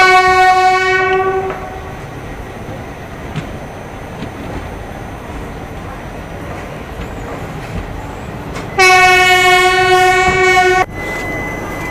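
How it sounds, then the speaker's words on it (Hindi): The Hussain Sagar Express pulls into Sedam station. Two long, loud horn blasts, one at the start and one near the end, sound over a steady rumble of the train rolling along the track. "अब हुसैन सागर एक्सप्रेस आ पहुंची है सेडाम।"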